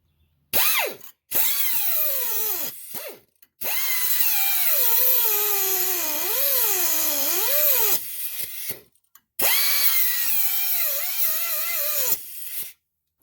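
A power tool cuts through a rusty tie rod on a Subaru during tie rod and strut replacement, whining loudly in three long bursts with rising and falling pitch, separated by short pauses, with no talk.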